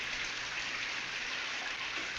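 Heavy downpour in a Japanese film scene, a dense, steady hiss of rain drumming on surfaces that holds evenly for the whole stretch with no voices.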